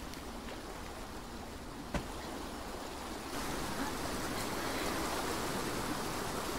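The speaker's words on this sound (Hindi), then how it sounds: "गाइस पानी का बहाव।" Steady rushing water of a stream in the video game Bramble: The Mountain King, a continuous broadband wash that swells louder partway through, with no voices over it.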